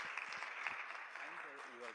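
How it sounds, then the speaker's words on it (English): An audience at a legislators forum applauds with a dense, even wash of clapping. Speech runs over and under the clapping throughout. "Nice round of applause for everybody."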